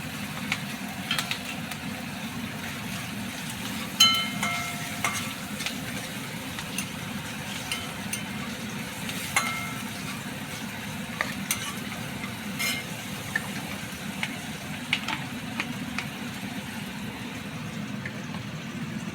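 Ginger and green chillies fry in a pan for gathi masala, a soft continuous sizzle with scattered light clicks and scrapes of stirring throughout.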